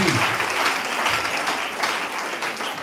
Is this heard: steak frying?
no